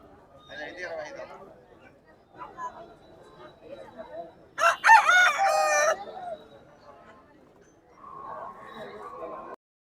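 A rooster crows loudly nearby amid chatter and clucking at a Saturday country-chicken market, with people talking before and after the crow.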